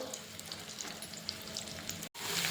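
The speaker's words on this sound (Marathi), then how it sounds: "त्या तेलमध्ये आपण आपले बॉईल केलेले बटाटे आहेत त्यांना फ्राय करून घेणार आहोत" Boiled potatoes fry in a shallow layer of oil in a kadhai for a soybean vegetable dish, giving a close, steady sizzle with fine crackles. The sound cuts out for a moment near the end, then resumes.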